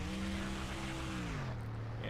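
Simulated stock car engine in NASCAR Thunder 2004 during practice laps, a steady loud droning whine that drops slightly in pitch near the end.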